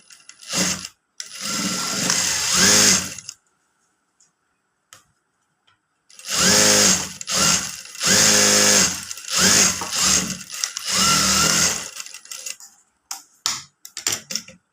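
A sewing machine stitching a Katori blouse, running in long loud bursts of rapid mechanical whirring and clatter close by, separated by pauses with soft handling clicks.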